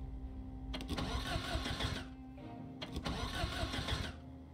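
A car engine in the zombie survival game Project Zomboid cranks twice, each start a rough churning burst of about a second and a half, separated by a short pause, with a low steady hum underneath.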